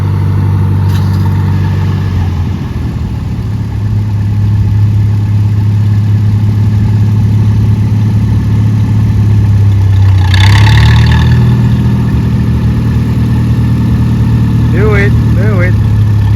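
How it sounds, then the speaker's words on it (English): An old tractor, roughly 50 to 60 years old, runs steadily at a vintage car show with a low engine drone throughout, rising briefly as it passes nearby, while people talk over it. "Here it comes the tractor. I think this tractor is about 50 to 60 years old."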